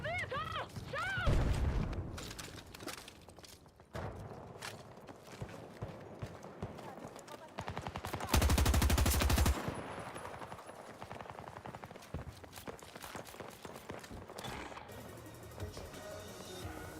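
Gunfire in the Battlefield video game: scattered shots, then a dense burst of rapid automatic fire, set against other battle noise.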